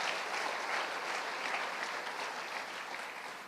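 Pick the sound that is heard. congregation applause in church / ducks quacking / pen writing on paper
congregation applause in church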